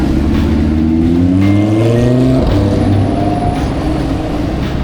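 Supercars such as McLarens drive past on a Monte Carlo street on a sunny Sunday afternoon, engines loud and close, with rising and falling revs as cars pass one after another.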